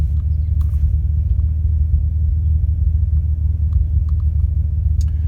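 A car with a manual transmission idles in neutral, its engine putting out a steady low rumble that holds an even pitch with no revving, close and alone.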